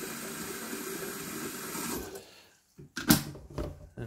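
Tap water is poured into a container ahead of boiling, a steady close splash for about two seconds, then a brief pause and a few short, uneven pours.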